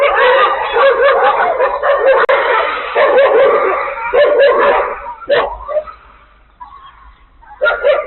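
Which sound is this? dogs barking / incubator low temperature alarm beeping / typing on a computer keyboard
dogs barking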